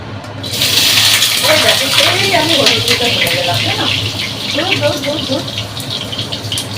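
Tap water runs steadily into a kitchen sink as a metal spatula is rinsed underneath, a constant close splashing gush with a voice talking over it.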